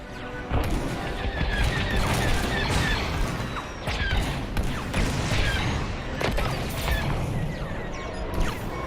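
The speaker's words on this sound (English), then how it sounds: "Taking enemy fire." Enemy starfighter fire in Star Wars Squadrons, played in VR: dense, loud blasts and crashing impacts hit in rapid clusters throughout, with steady engine and cockpit noise underneath.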